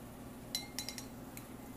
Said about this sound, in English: let's go ahead and stir a drink up